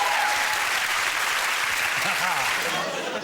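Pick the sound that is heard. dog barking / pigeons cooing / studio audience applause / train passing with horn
studio audience applause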